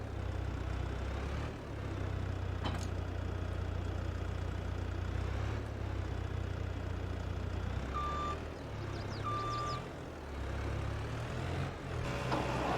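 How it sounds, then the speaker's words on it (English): Mahindra tractor engine in Farming Simulator 22, a steady low diesel rumble idling and droning throughout, with a few brief electronic beeps near the end. "So let's get the Mahindra tractor and we'll get it attached here to this."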